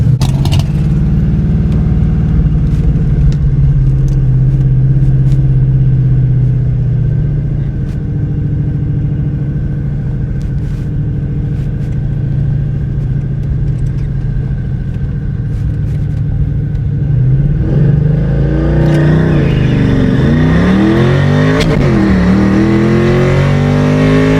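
Drag car Ruby accelerating hard down a drag strip lane on a test pass, a loud, steady engine roar close by that rises in pitch near the end as revs climb.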